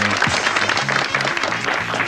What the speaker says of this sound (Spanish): Un aplauso para el escribano.